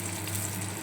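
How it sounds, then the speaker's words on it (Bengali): Eggplant slices frying in oil give a brief, steady, fairly soft sizzle, close and without talk. "বেগুন ভাজছি"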